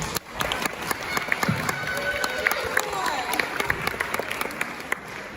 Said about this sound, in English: why don't we just have one final round of applause before we do the awarding